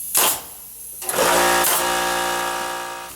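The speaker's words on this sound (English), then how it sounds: "before the air compressor came on" An air compressor in a garage kicks on after a brief mechanical burst and settles into a loud, steady motor hum with a strong tonal drone that slowly eases, close by, with no talk.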